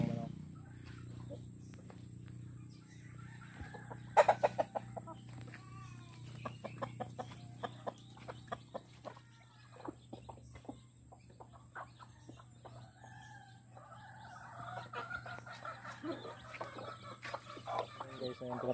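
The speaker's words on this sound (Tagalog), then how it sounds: "Yan guys, yung mga alaga kong manok." Backyard pet chickens cluck in short, scattered bursts close by, the calls irregular and fairly soft over a steady low hum, with no talking.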